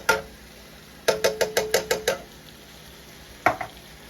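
Drained but unrinsed cannellini beans tipped from cans into a soup pot, a quick run of about seven sharp metallic scraping knocks followed by a pause and two more, close and clear with no talk.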